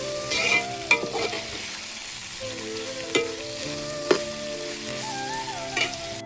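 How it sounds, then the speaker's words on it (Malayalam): Onion, ginger, garlic, green chili and curry leaves sauté in coconut oil for Kottayam-style kappa biryani, giving a steady close sizzle broken by several sharp clinks and scrapes of a stirring spoon against the pan. "കട്ട് ചെയ്ത് വെച്ചിരിക്കുന്ന സവോള, ഇഞ്ചി, വെളുത്തുള്ളി, പച്ചമുളക്, കറിവേപ്പില ഇട്ടിട്ട് നന്നായിട്ട് വഴറ്റി കൊടുക്കണം"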